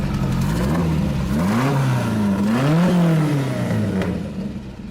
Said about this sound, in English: That's a pretty mean sounding 180 horsepower.